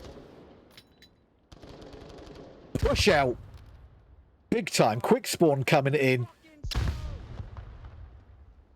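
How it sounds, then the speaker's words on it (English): Bursts of rapid automatic gunfire crackle in short volleys in the VR shooter Onward, interleaved with a voice giving quick callouts over steady background noise. "All of the gunshots going off within seconds of the round started"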